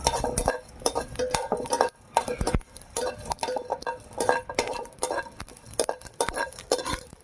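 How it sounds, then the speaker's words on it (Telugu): Small onions and cumin fry lightly in a pan with a spatula stirring them, making repeated scraping and metallic clinks close by, with only a faint sizzle underneath. "చిన్నెల్లిపాయలు జీలకర్ర మొత్తం వేసుకొని లైట్గా వేసుకుందాం"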